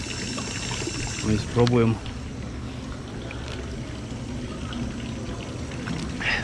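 Fountain water in Zurich pours steadily into a container nearby, a continuous splashing flow heard under a short spoken phrase.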